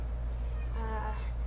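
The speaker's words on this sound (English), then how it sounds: "Here is my cat" A pet cat gives a single short meow, close by and fairly faint, over a steady low background hum.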